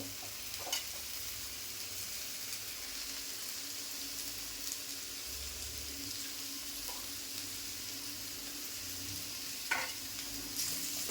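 Potato vegetable cooks in a pan as it is stirred, a steady soft sizzle with occasional scraping clinks of the spoon against the pan, close and fairly quiet, with no one speaking.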